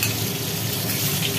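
Rohu fish pieces fry in hot oil, a dense, even sizzle heard close up and without a break for a moment, with no talking.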